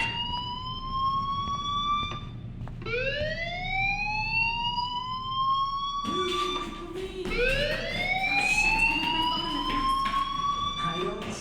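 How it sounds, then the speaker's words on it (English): Fire alarm ringing inside the Life is Strange video game, repeated rising electronic sweeps with clear harmonic tones, steady and loud throughout with a low background hum. "do you hear that fire alarm? That means you should be outside."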